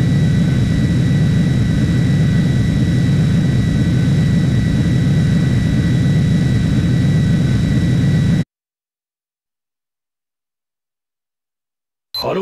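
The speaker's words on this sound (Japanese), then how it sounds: "では着陸する。" A jet fighter landing in the video game Ace Combat 3, with a loud, steady jet engine roar and whine holding for several seconds before cutting off abruptly into silence and a brief sound at the very end.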